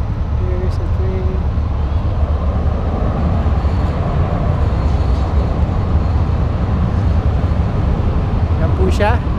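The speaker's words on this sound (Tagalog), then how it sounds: "So here's a train." A train passes in downtown Calgary, Alberta, heard as a loud, steady rumble of rail cars that fills the whole stretch, with city noise around it.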